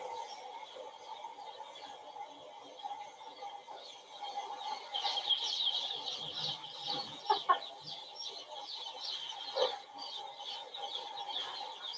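Many small newly hatched chicks in a hatchery, red meat-type birds, peep and cheep continuously in a busy, overlapping chorus, with occasional louder chirps standing out nearby.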